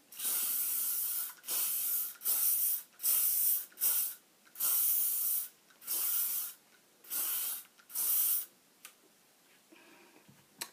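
Hairspray with light-reflecting micro-particles, strong hold, sprayed onto a hair bun in a series of close, loud hissing bursts of about half a second to a second each, separated by short pauses, with no talking.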